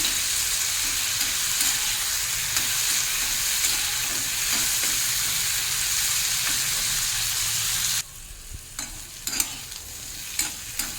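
Snake gourd frying over a high flame and stirred repeatedly, a dense, continuous sizzle with spatula scraping for about eight seconds, then quieter sputtering and scattered stirring clicks.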